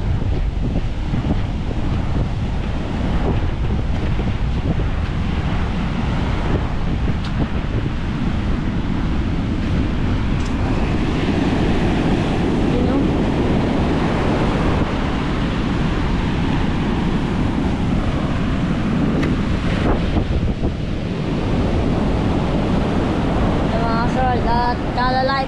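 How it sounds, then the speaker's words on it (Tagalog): Storm surge waves along the Bucana shoreline, a continuous heavy rush of surf mixed with strong wind buffeting the microphone, a voice briefly heard near the end. "At kalalaki po talaga ng alon."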